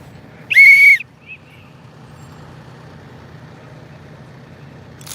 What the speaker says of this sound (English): So I blew my whistle, I'm pointing.